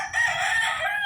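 Chicken clucking inside a chicken coop, a single short raspy call that is loud and close, heard alone without talk.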